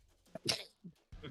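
During a Dungeons & Dragons live stream, a single quick sneeze bursts out close by, followed by a soft sniff and a short faint vocal sound.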